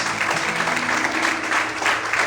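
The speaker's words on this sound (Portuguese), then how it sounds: "Quantos podem aplaudir e exaltar o Senhor bem forte?" A church congregation claps steadily during a sermon, a continuous even patter of many hands at moderate volume with no voices standing out.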